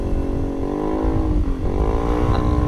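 Yamaha Mio scooter engine revved on and off the throttle, its droning whine dipping briefly as the throttle is released, then rising again, heard close and alone.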